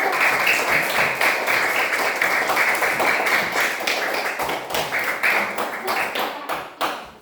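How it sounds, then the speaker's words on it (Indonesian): A group claps and applauds for group 2 in a classroom, a dense, loud spell of many hands that thins into scattered claps near the end. "Tepuk tangan untuk kelompok 2"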